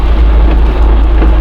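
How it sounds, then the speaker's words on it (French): Rain falls on a car being driven near Nancy, a dense steady wash of hiss over deep low road and engine rumble, loud and close inside the vehicle. "Oh là là, il pleut."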